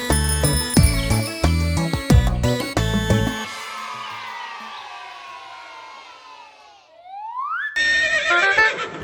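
A horse whinnies in a long, bright neigh that trails off after a burst of chiming music, followed by a rising squeal and more busy music, all at moderate loudness with no talking.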